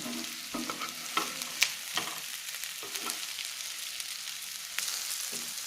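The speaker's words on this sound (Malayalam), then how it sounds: "എണ്ണ ചൂടാകുമ്പോൾ ചേമ്പ് ഓരോ പീസായിട്ട് അതിനകത്ത് ഇട്ട് കൊടുക്കാം." Taro pieces drop one at a time into hot oil, each landing with a fresh burst of sizzle over a continuous bubbling fry, with some light clatter from stirring.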